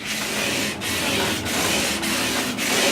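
Fine 1200-grit abrasive paper rubbed over the frets of a Gibson 335 guitar, a steady close scratching hiss in repeated strokes with brief pauses between passes, no voices.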